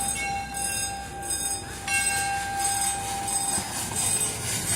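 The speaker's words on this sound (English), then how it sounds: "A train? Is this 1942?" A train passes at Cedar Point amusement park in the rain, its wheels rumbling and squealing with steady tonal screeches and a bell-like ring, loud and close throughout.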